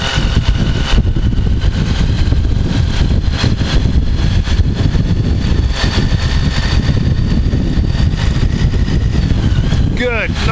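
Motorcycle engine running steadily throughout on-road rider training, a continuous loud drone with shifting revs as the clutch is worked, under a speaking voice and wind.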